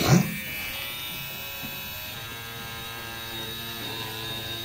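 A mini cordless rotary tool drills a hole, giving a steady high-pitched motor whine that runs continuously at moderate level after a brief louder start.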